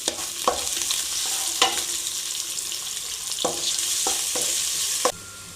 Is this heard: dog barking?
no